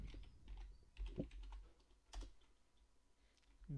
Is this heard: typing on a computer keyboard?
yes